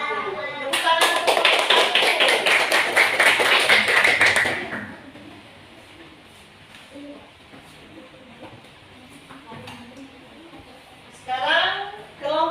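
A classroom group breaks into a burst of brisk, dense clapping lasting about four seconds before it stops, followed by quieter talking voices in the room.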